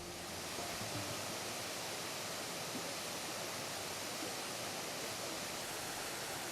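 A sacred waterfall in Madagascar roars as a steady, even wash of rushing water, loud and unbroken throughout, with no other sounds on top.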